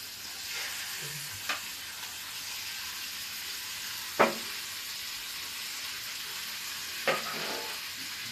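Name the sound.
mutton frying and being stirred in a pan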